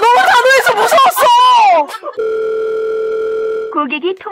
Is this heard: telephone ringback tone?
yes